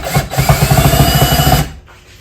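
A power drill drives screws into the wood of a squirrel-proof bird feeder, a loud close whirring buzz with a rapid pulsing rhythm for about a second and a half, then stopping abruptly.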